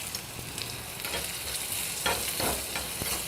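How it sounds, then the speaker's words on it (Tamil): Shallots, cumin seeds and asafoetida frying in oil in a pan for a cashew nut kulambu, with a close, steady sizzle and scraping stirs of a spoon, no talking. "சின்ன வெங்காயம் சேர்த்துக்கிறேன்"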